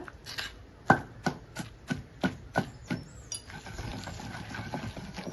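Tamarind chutney with onions being pounded and ground by hand, a series of evenly spaced hard knocks of stone on stone that give way to softer, continuous grinding and rubbing.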